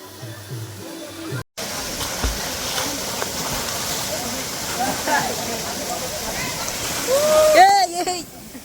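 A waterfall beside the Kileshwar temple gives a loud, steady rushing roar throughout, with a brief dropout early on and people talking and calling out over it.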